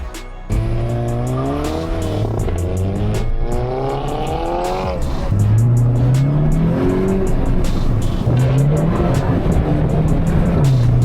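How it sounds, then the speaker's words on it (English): A tuned Mk8 GTI's engine revs loudly in repeated rising pulls as its front tires lose traction, with tire squeal and a juddering wheel hop under the engine noise. "Wheel hop happens when the front tires in these GTIs lose traction"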